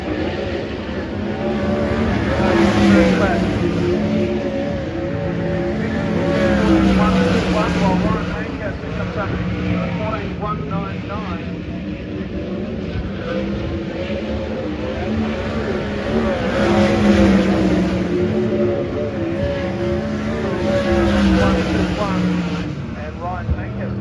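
Race car engines droning and revving as cars lap during qualifying at the Bunbury New Year Bash, a continuous roar that swells and fades as cars pass, under steady commentary.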